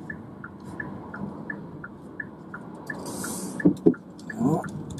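A car cruises along a country road in eco mode, its steady engine and road noise continuous throughout, with a regular ticking, likely the turn indicator, and a few louder bumps near the end.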